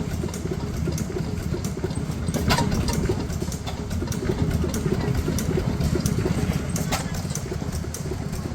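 A Hornsby petrol stationary engine, side shaft and low tension ignition, runs at a historic machine restoration rally: a steady chuffing thrum with regular sharp ticks, moderately close amid outdoor crowd ambience.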